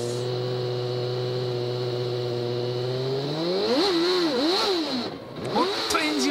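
A Formula 1 car from the 1992 season at a rain-delayed restart: the engine drones steadily, then revs up hard and surges through wavering, rising and falling pitches, nearly stalling on the start, loud and close.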